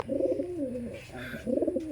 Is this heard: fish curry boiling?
no